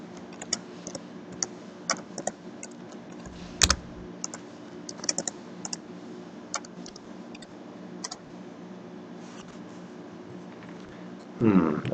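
Keys pressed on a graphing calculator while entering a function, heard as soft, close, irregular clicks and taps over a quiet background, ending in a brief rustle.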